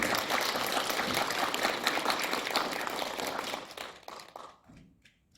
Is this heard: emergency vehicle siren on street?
no